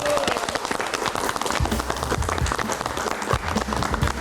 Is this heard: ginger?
no